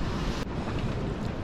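Ocean waves and wind at an exposed boat anchorage in French Polynesia; dense, loud rushing wash of water with wind buffeting the microphone, no voices.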